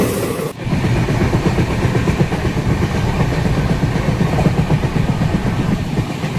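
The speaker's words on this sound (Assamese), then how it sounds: "মাজতে ট্ৰেইন এখন পাৰ হ'ল" A train rolls past fields of paddy and jute on the way from Guwahati toward Chennai, a steady loud rumble and rhythmic clatter of wheels on rails filling the whole stretch without letup.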